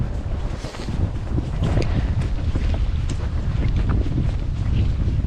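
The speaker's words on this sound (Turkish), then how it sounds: "Hafif yel istiyor ama Sol taraftan esiyor." A light wind blows through a remote forest from the left side, producing a steady, fairly loud rushing with strong microphone buffeting throughout and no speech.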